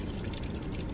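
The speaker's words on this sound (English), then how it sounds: "And now I am just going to add some water" Water pours steadily into a shaker bottle for a pre-workout drink, a close, continuous splashing stream that fills the whole moment with no talk.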